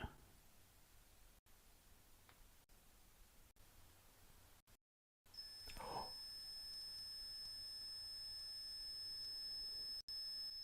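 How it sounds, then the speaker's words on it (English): An electronic ghost-hunting alarm sounds inside the supposedly haunted Ashmore Estates during a paranormal investigation, a faint, steady high-pitched electronic tone rising out of constant static hiss partway through. "If you get closer to it, it'll beep."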